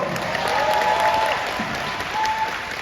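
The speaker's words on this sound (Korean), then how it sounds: "공연장 안팎에서 어, 지금 저희를 위해서 고생해주고 계신 많은 스태프분들께도 박수 한번 부탁드리겠습니다" Concert audience applauding the hardworking venue staff, a steady, dense wash of clapping from a large crowd filling the hall throughout, with faint cheering tones riding over it.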